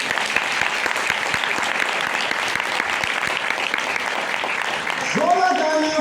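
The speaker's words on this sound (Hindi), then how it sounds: "सो एक बार जोरदार तालियां हो जाए" Sustained audience applause at a wellness product launch for a plant protein powder, dense steady clapping throughout, with a voice and tonal sound rising near the end.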